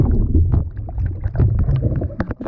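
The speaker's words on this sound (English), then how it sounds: "but also some pretty choppy waters" Rowing boat out on choppy sea water during a tough charity row, with a steady low rumble of wind and waves and irregular splashing bursts close to the microphone, no voices.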